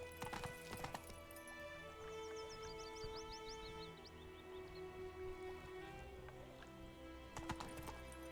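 Clip-clop of Roach the horse's hooves in a video game, a steady walking rhythm of hoof falls under ambient wind and a faint birdlike chirp, with a brief whinny near the start.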